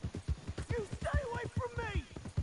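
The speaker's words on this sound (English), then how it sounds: "Hey, that's my horse!" Horse hooves clip-clop in a quick, even rhythm close by in Red Dead Redemption 2, with a whinny rising over them midway and a voice speaking on top.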